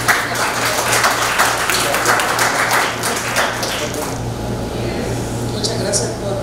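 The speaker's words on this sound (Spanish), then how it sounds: "La recibimos con un fuerte aplauso." Audience applause at a university research presentation, a steady wash of clapping that fades after a few seconds into room noise with a low hum beneath.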